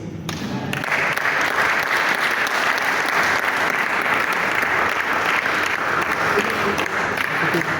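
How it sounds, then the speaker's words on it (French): Sustained, loud applause from a large audience fills a hall at the Palme d'Or award ceremony in Conakry, dense continuous clapping that starts suddenly and holds steady to the end. "Encore une fois, sous vos acclamations"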